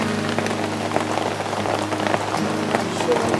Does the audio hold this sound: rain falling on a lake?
yes